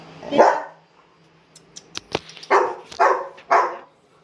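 A puppy gives a handful of sharp, high yips and barks, one early, then three quick ones in a row, with light clicks between.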